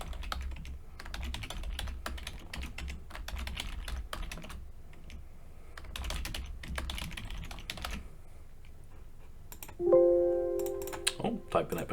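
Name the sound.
typing a password on a computer keyboard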